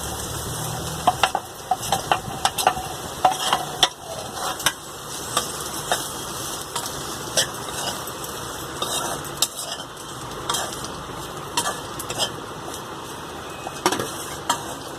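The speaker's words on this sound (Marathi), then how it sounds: "एक 2 मिनिटं फ्राय करून घेऊ।" Okra (bhindi) frying in a pan, a continuous soft sizzle with intermittent scraping and clinks of a spoon stirring against the metal, close and steady with no talk.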